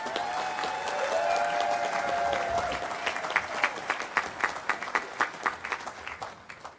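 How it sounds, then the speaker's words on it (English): Audience applause at a Republican Party of San Diego County endorsement meeting, a steady wash of many hands clapping that thins out into scattered individual claps near the end. "Let's have a round of applause for Diane."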